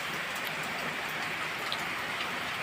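Heavy rain falling steadily outdoors during a monsoon downpour, a constant hiss of dense drops with occasional closer patters, moderately loud and without voices.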